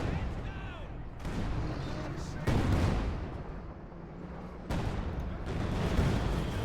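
In the video game Company of Heroes 2, a mortar bombardment lands as several heavy, rumbling booms and blasts over a constant background of battle noise. The booms are loud and broadband, with a few sharp onsets and long decays.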